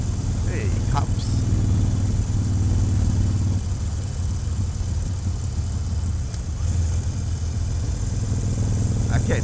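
A Harley-Davidson Iron 883 motorcycle engine rumbles steadily while riding, a loud low drone that drops in pitch partway through as the rider shifts, with wind noise and no clear talk over it.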